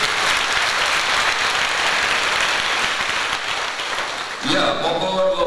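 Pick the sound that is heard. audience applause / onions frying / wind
audience applause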